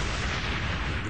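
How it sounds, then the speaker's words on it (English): A huge test explosion detonated near large Navy ships anchored close to shore, heard as a continuous, dense, loud roaring rumble with no clear breaks, like sustained blast and debris noise. "The monstrous explosion is powerful enough to wipe out a small city."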